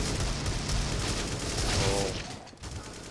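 Dense, continuous bursts of gunfire fill a Counter-Strike match, with rapid overlapping shots rattling loudly throughout and dropping off briefly near the end.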